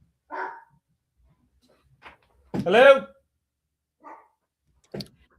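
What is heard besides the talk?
dog barking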